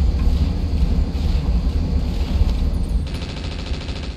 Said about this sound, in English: go ahead and fire your machine gun